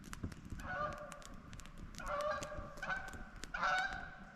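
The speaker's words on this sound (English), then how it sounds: "Oh, comes a goose." A goose honks several times near an old overgrown riverbed in the woods, loud nasal calls in four separate bursts, the last ones closest together, over quiet outdoor background noise.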